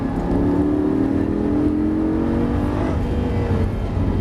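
A rear-wheel-drive Lamborghini LP 560-2 engine roaring at full throttle on the Dreux circuit, a sustained loud drone with the pitch slowly climbing, heard from inside or very near the car.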